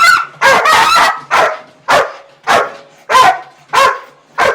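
A working dog in training barks loudly and up close, about eight sharp barks in a steady rhythm, each one full and ringing, with no voices over them.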